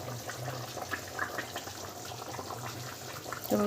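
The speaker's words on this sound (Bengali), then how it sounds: "মাছগুলো এবার দিয়ে দিচ্ছি ঝোলের মধ্যে" Pieces of fish go into a thin, simmering fish curry broth with broccoli, making a close, continuous bubbling and liquid churning with small splashes.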